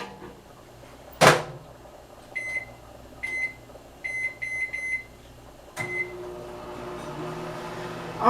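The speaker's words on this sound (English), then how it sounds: "I'm going to put some bacon in the microwave simply because I don't fry it." A microwave oven heats turkey bacon in a home kitchen: a door clunk, then a run of short electronic keypad beeps, another latch thump, and the low steady hum of the oven running, with no voices.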